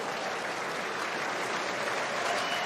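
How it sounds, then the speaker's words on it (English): A rugby crowd at an Exeter Chiefs versus Bath Premiership match applauds as two props are substituted, a steady, even wash of clapping from a large stadium audience that holds at moderate level throughout. "The applause is for the change of the two props."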